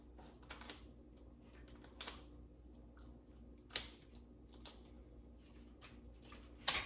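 Kitchen shears snip through a chicken backbone in a handful of sharp, separate crunching cuts, close and fairly quiet, with short pauses between them.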